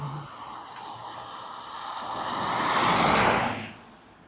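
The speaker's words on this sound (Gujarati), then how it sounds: "પાણી ઉડે પાણી ઉડે." Water sprays and rushes up from a bicycle's tyres riding through wet road on a rainy mountain route, a steady wash that swells loud for a second near the end before cutting off.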